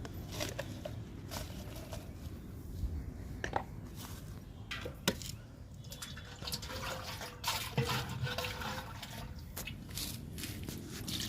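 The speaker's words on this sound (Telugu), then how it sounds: "ఈ బకెట్లో పోస్తున్నా" Liquid plant feed pours steadily into a bucket, a continuous watery splashing and patter running throughout at moderate loudness, with a few sharper knocks along the way.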